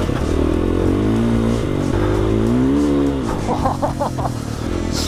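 A 2022 GasGas off-road motorcycle engine revs hard close by, its pitch rising and falling through several throttle blips with a harsh, buzzing roar. A burst of rapid clattering follows near the end.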